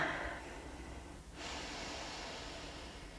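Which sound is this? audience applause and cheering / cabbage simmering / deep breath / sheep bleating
deep breath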